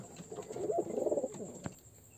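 Pigeons coo softly and close by, a run of low burbling coos rising and falling over about a second with a faint sharp tick near the end; the birds are a pair of peacock-type pigeons kept as pets.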